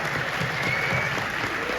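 A theater audience applauds steadily after a film Q&A tribute to the behind-the-scenes crew, a dense, even wash of many hands clapping throughout.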